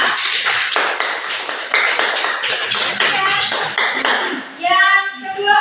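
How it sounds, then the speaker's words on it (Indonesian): A classroom of students applauds group 3, a dense run of many hands clapping loudly for several seconds, ending with a short bright ringing tone. "tepuk tangan untuk kelompok 3"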